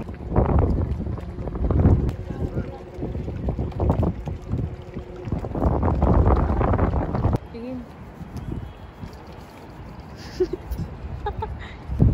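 A boat moving over water with a steady engine drone, wind rushing against the microphone, and people talking over it.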